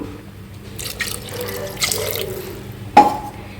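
More water goes into a thick raw mango sambar. Short splashes and drips come in small bursts, capped by a sharp clink of a vessel, and the liquid is heard close up with no voices.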